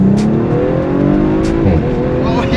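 A modified Audi RS5 pulls hard at full throttle from a rolling start, its engine note rising loud and close with a brief shift dip near the end.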